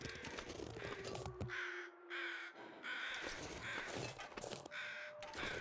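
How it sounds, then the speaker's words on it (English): Several crows caw in The Long Dark, a winter survival game, giving loud, harsh calls in irregular bursts that repeat throughout with short gaps between them. "I hear crows."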